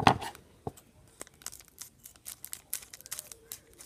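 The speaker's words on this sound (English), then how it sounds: "I'm gonna cut open all the packs." Close, quiet snips and tearing crinkles of foil Pokémon card booster packs being cut open one after another, with irregular short bursts and a louder rustle at the start.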